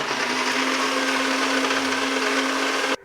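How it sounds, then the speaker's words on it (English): A high-speed blender whirs loudly and steadily while blending a White Cuban drink, a close continuous motor whine that cuts off abruptly at the end. "what we're going to do now is just blend this in a regular high-speed blender or whatever blender you have"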